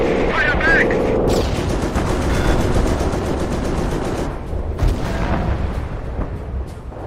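Artillery battery firing during a Company of Heroes battle with Blitzkrieg mod, a dense barrage of booming cannon blasts and rattling machine-gun fire layered under continuous game voice lines and battle noise.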